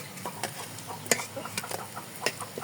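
Eggplant slices frying in hot oil for a Bengali home-cooked dish give a low, steady sizzle, broken by several sharp clinks and scrapes as pieces are lifted out one by one.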